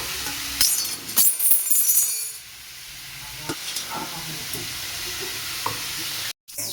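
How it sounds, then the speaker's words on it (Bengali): Potatoes, onion, beans and carrot fry with nigella seeds in a pan, giving a steady close hiss with scraping stir strokes and a few clinks, then a sudden brief gap near the end. "এটা হচ্ছে কালো জিরা ফোড়ন দিয়ে আলু, পেঁয়াজ, বিনস, গাজর দিয়ে ভাজা হচ্ছে।"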